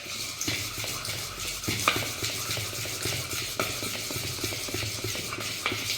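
Dhokla batter whisked steadily in one direction in a bowl, continuous rhythmic scraping and light clinking, close and moderately loud with a dense textured hiss throughout.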